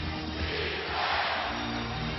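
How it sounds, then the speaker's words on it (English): A Staples Center crowd roars during a Nuggets–Lakers game, a dense, sustained wash of cheering that swells slightly in the middle. "The crowd on its feet right now at Staples Center"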